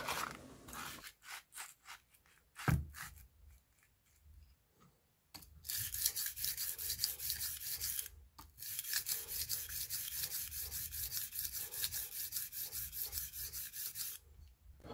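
A shoe knife blade is ground flat on sandpaper, first in short rhythmic scraping strokes, then in long continuous rasping passes, faint and close with no talk.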